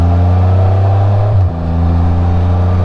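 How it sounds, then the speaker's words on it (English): A 2015 RTL's engine drones steadily in first gear, then gives a brief throttle blip and dip around the shift into second before settling into a steady hum, close and loud. "I blipped the throttle when I shifted from first to second"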